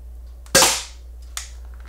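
Two shots from an airsoft Desert Eagle pistol: a loud, sharp crack followed by a decaying tail, then a fainter, quicker second pop about a second later, with no talking.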